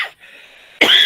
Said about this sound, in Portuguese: A gripe, a minha tosse não quer me largar, uma tosse cabalística.